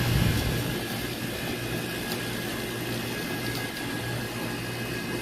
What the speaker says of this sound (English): See if we can get up here to our blower motor.